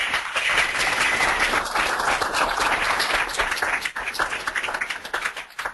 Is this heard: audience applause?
yes